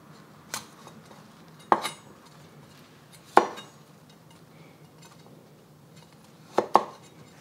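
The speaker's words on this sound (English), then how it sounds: "So I'm actually gonna cut that right off and just cut them into florets." A kitchen knife cutting broccoli crowns into florets on a board: a handful of sharp, isolated chops land in short pairs against a quiet room, fairly close and distinct, with no talking.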